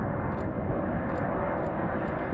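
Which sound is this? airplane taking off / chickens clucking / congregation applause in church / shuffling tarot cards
airplane taking off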